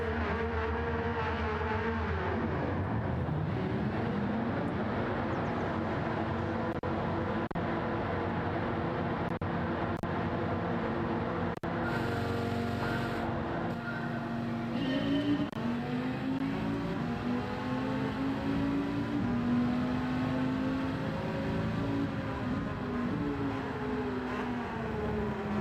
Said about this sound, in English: Man, those Porsches are loud.